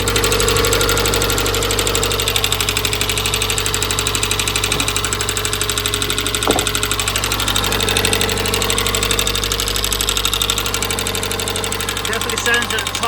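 Nissan Primera P11 GT engine idling with a steady rapid ticking from a sticky lifter, close and continuous over a low mechanical hum, with no talking.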